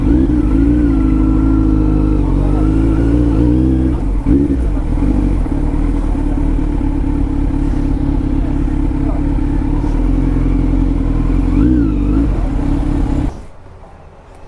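Kawasaki Z motorcycle fitted with an Arrow Pro Race titanium exhaust, riding with a loud, steady engine drone and rising and falling revs, close and continuous, cutting off abruptly near the end.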